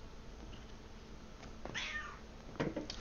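A house cat gives a short meow nearby, followed a moment later by a second brief meow, both soft against a quiet room hum.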